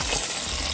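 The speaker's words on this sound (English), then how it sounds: "You're going to hear some noise. You're going to hear some sizzle." Cooked pasta tossed with bacon in a hot pan gives a steady, dense sizzle and frying hiss, close and continuous without any talking.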